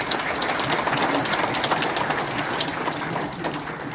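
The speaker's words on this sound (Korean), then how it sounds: "이 두 분들을 여러분들이 박수로 환영해" Dense, steady applause from an indoor audience at a national civic assembly in a Seoul hall, welcoming two people. The clapping fills the whole stretch at an even level with no voices over it.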